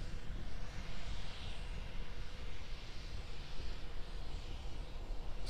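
SpaceX Starship SN10 rocket hovering on its single Raptor engine, a steady, dense broadband roar heard at a distance with no break or pause across the whole stretch.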